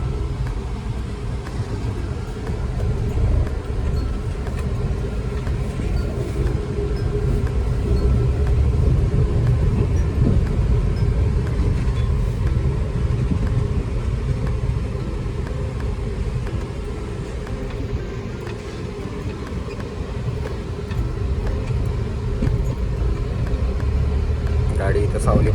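A car engine runs steadily at close range with a continuous low rumble while the car is being parked in the shade near the Zalandevi temple. It sounds the same from start to end, and someone talks over it.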